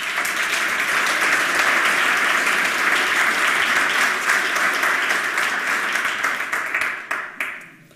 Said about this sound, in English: Please give him a round of applause of welcome.